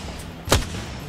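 A single sharp grenade blast in the Apex Legends video game, a loud sudden burst with a low rumbling tail over a steady background of game noise.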